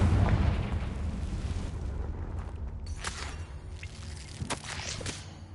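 A Confringo blasting spell goes off in the Hogwarts Legacy video game: a loud, dense rumbling explosion at the start that settles into a sustained roar, with sharper crackling bursts breaking through later.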